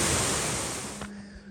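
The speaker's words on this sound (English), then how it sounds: "Just outside Courmayeur, a little bit contrived, but it's a waterfall." Waterfall just outside Courmayeur on the Tour du Mont Blanc, a broad steady rush of falling water filling the air, loud at first and easing off near the end, with no talk.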